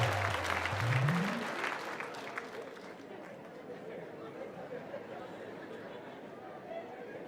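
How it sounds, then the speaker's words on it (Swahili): Applause from a crowd at a life celebration, given in thanks to the musicians, swells then settles into steady clapping with murmured chatter as a voice speaks over the start. "Wapigieni wote makofi mazuri tafadhali."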